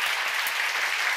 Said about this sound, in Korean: 박수 한 쳐봐.